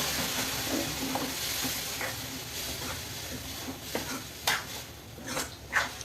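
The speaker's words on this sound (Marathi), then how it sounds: "मस्तपैकी शेंगसोला असं चांगला परतून घ्यायचा" Shengsola, a vegetable dish, is stirred in a pan, with a soft sizzle running throughout and scraping, clinking stir strokes that grow more distinct toward the end, with no talk.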